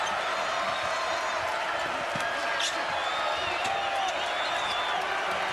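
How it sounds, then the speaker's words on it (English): Basketball arena crowd in Champaign during an Indiana at Illinois game, a steady distant roar of cheering that swells slightly, with faint shoe squeaks and bounces mixed in. "Crowd is springing to life in Champaign."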